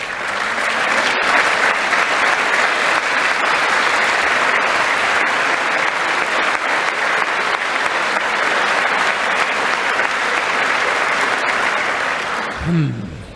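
A chamber audience at the State of the Union address breaks into loud, sustained applause, a thick steady roar of clapping that holds evenly before a voice briefly cuts in at the very end.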